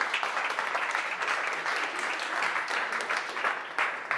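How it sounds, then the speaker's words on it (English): A meetup audience claps for the speaker Matthieu, a steady, moderately loud patter of many hands that keeps going evenly for a few seconds. "Let's give a round of applause for Matthieu"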